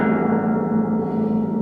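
Bass strings of a harp beaten sideways with the flat of the hand give a thunder effect, a steady, dense low rumble of buzzing string tones, close and loud, sustained without a break.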